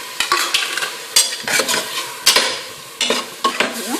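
Onions and tomatoes sautéing in a pan for an intestine (kudal) gravy, a spoon scraping and stirring in quick irregular strokes over a background sizzle.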